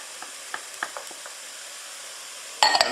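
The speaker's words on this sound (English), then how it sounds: "the shallot and the leek have been sweating, I'm now going to add the mushroom" Shallot, leek and mushroom sizzling in a pan for a mushroom and tarragon velouté: a low, steady frying hiss with scattered soft stirring clicks, ending in a louder burst of sizzle and clatter.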